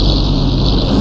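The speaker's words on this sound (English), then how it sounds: "Big grunt from the engine." A 1930s race car engine in Assetto Corsa grunts loudly and close up in a single sustained, rough low growl.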